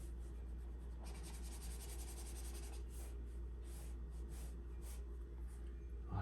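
A pencil sketches a notan-style study on paper, giving a close, continuous scratchy rub with faint stroke bursts over a low steady hum.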